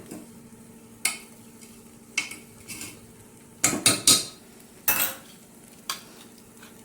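A spoon spreading ginger-garlic paste inside a pressure cooker, sharp metallic scrapes and clinks in irregular bursts over a faint sizzle, close and clear with no talk.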